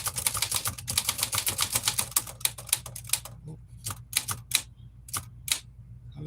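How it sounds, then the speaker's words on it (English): Rapid, crisp clacking of a typewriter being typed on at a repair bench, a dense run of keystrokes followed by sparser, spaced individual strikes, close and clear. "So this is what we do, tune in the typewriters."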